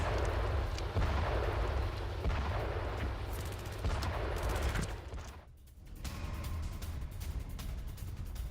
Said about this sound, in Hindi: वीडियो में इजरायली सैन्य बेस पर हमला दिखाया गया है कि कैसे हिजबुल्लाह हमले कर रहा है